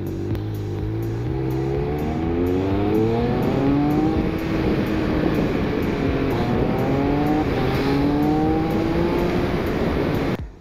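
Triumph Speed Triple 1200 RS motorcycle pulling hard on a road, engine note climbing through repeated rising sweeps as it accelerates through the gears, loud and close with strong wind rush throughout.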